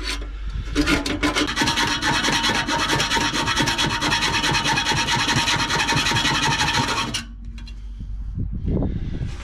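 A hacksaw blade cuts through a steel exhaust pipe on a car, loud, close, rapid rasping strokes running continuously for about seven seconds before stopping, followed by quieter handling sounds.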